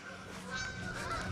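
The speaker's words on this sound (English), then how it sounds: "Well, that's a lot of geese." A flock of geese honking outdoors on a trip up north: overlapping nasal honks at moderate distance over steady background noise, brief and continuous.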